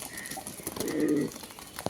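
A male Spanish pouter pigeon gives a single soft, rolling coo midway, fairly faint against a light background hum.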